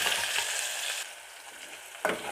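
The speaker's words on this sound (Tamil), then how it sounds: "இது வெங்காயத்தை நல்லா வதக்கிக்கிறலாம் இந்த வெங்காயம் நல்லா வதங்கணும்" Onions sautéing in a pan for sambar make a soft, continuous sizzle, with a sharper stirring scrape near the end of the brief stretch.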